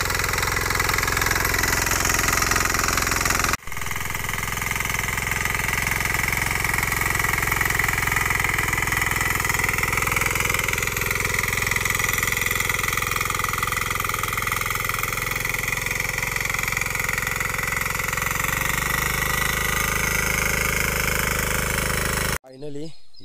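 A tractor engine drones steadily while ploughing a village farm field in Konkan, loud and close throughout, its pitch wavering slightly, with a sharp knock early on before the sound cuts off at the end.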